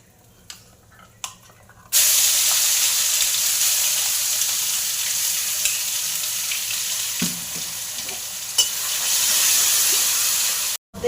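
A paste of soaked ginger, garlic, onion, whole cumin and dried red chillies hits a hot pan for an egg curry with cauliflower. A sudden loud hiss starts after a quiet moment and stays as a steady, close sizzle.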